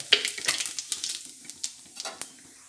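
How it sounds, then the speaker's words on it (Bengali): Dried red chillies and cumin seeds frying in hot oil for a tempering, a soft crackling sizzle with scattered sharp pops and light stirring taps, quiet and close. "ফোড়নটা ভাজা হবে"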